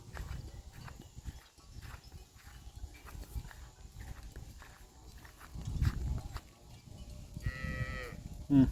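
Water buffalo lowing outdoors on a farm at night, with a few low moos spread through the scene among scuffling, hoof-like steps and other rural background noise, the nearest call louder toward the end.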